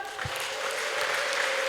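A church congregation claps together in a steady, dense patter of applause that holds at an even level throughout, with a sustained held musical tone ringing underneath.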